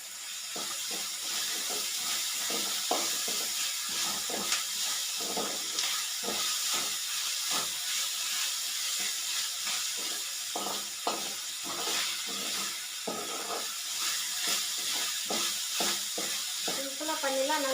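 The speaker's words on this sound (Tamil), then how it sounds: "இந்த ஸ்டேஜில் நம்ம வந்து இது இஞ்சி பூண்டு பேஸ்ட்டு ஒரு அரை ஸ்பூன் போட்டுக்கலாம்" Ginger garlic paste sizzles and fries steadily in a hot pan while cooking potato kulambu, with a continuous hiss broken by occasional stirring scrapes, close and fairly loud throughout.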